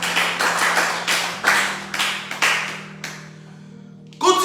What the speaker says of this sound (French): Acclame-moi très fort à ça.